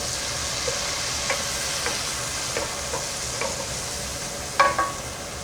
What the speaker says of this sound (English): Let's saute those onions till they're kind of translucent.